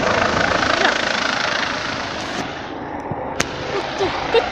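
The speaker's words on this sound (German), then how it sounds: "Ihr seht, da ist der Helikopter." A helicopter coming in to land roars as a loud, continuous broadband wash with a few sharp cracks, while a voice speaks faintly underneath.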